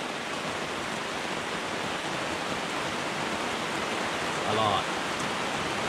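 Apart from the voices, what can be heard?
heavy rain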